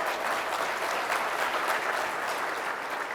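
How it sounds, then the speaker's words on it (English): An audience at a summit on school sports claps steadily for a school principal on a panel, a dense, even round of applause with no speech over it. "Let's give him a round of applause,"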